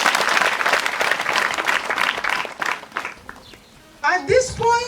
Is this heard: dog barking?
no